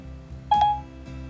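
Short electronic tone from an iPhone as Siri places a phone call, a single clear beep lasting a fraction of a second over a faint steady hum, with no voices.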